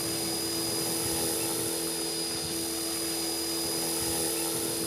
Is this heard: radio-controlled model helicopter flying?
yes